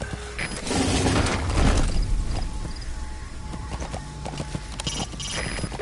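In the Metal Gear video game, a horse's hooves clop in a steady run through open wilderness, joined by mechanical rattles and clicks, loudest early and then settling into an even patter.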